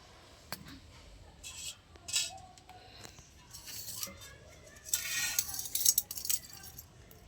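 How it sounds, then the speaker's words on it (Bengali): Silver items scrubbed clean with a brush at home, giving faint scratchy brushing and light metallic clinks in short, irregular bursts. "এবার আমি একটা ব্রাশের সাহায্যে পরিষ্কার করে নেব।"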